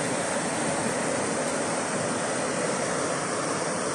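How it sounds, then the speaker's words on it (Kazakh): The Tentek river near Shymbulak village in Alakol district rushes in a loud, unbroken wash of water, close by and constant throughout, with no voices. "Сондай керемет тентек деген өзеніміз."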